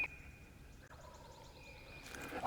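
A wild turkey gobbler's rattling gobble rings out once at moderate distance in the woods, followed by louder rustling close by near the end.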